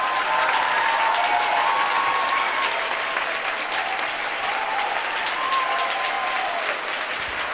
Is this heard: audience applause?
yes